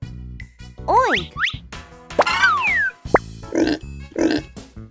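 A pig oinks several times in close, loud grunting bursts with pitch swoops and bouncy effects, as in a preschool animal-sounds lesson. No voice imitates it.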